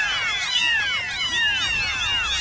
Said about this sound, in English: The meowing started.